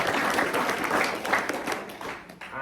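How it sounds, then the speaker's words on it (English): An audience at an evening recognition event bursts into dense, continuous applause, many hands clapping together in a thick, even roar that fills the room for a few seconds before easing slightly at the end. "Another round of applause."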